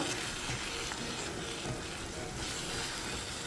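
Softened tomatoes being mashed in a pan while cooking mutton masala, a steady close sizzle with soft squishing and stirring scrapes running throughout, no voices.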